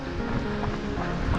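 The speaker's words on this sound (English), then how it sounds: "So here's the water from that waterfall. It's a nice little creek available here." Creek water fed by a mountain waterfall near Mt Rose and Tamarack Lake, a steady close rushing and burbling flow with a windy outdoor hiss and no voices.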